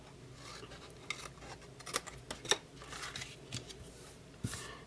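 Scissors snip through a cardboard box flap for a Halloween box project, a string of short crisp cuts and rustles, close and fairly quiet, with no talking.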